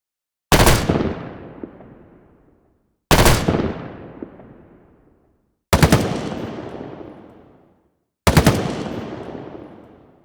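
Four separate bursts of rapid Halo 5 battle rifle fire, each a sharp cluster of shots followed by a long decaying echo, evenly spaced with silence between.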